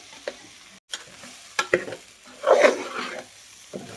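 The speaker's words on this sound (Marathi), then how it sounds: "तांदूळ भाजून घ्यायचा आपल्याला 5 मिनिटं." Washed and drained basmati rice dry-roasting in a pan for an egg dum biryani, heard as soft scraping stirs and light sizzle with a few sharp clicks and a louder rustling burst midway.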